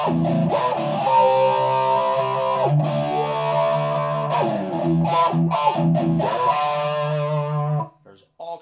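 Guitar played through a Kemper amp on a talk-back patch with heavy reverb, sustained vocal-like distorted tones that sweep and warble, loud and continuous for about eight seconds before cutting off.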